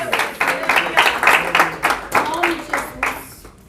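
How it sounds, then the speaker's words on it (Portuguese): A church congregation claps for Jesus in a series of bursts, roughly rhythmic rounds of hand claps spread across a room, with voices talking and calling underneath. "bate palmas para o Senhor Jesus"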